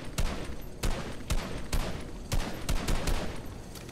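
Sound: gunshot in the video game Fortnite

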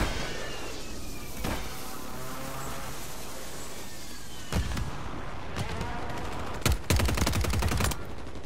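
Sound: gunfire from a gun in a video game

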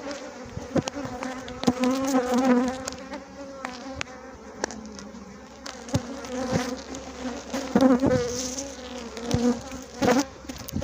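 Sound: honeybees buzzing while checking a weak colony's hive

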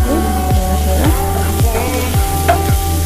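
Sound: garlic, ginger and green chili sizzling in butter

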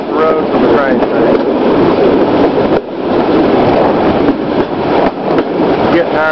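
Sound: train riding along a single track

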